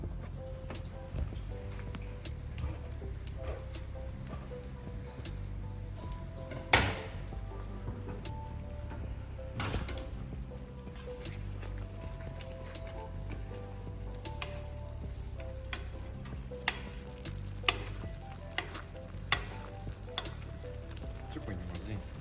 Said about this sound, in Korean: 방금 준비해온 식용유를 뿌려가지고 면이 들러붙지 않게끔 저어서 준비해주겠습니다